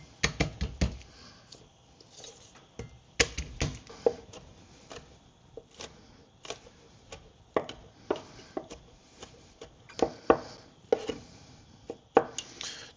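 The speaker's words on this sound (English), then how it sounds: "We'll start with the garlic here." Garlic is chopped with a knife on a board in a quick, irregular series of sharp taps and knocks, some in rapid bursts, with quieter handling sounds between the cuts.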